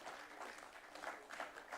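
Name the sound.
audience applause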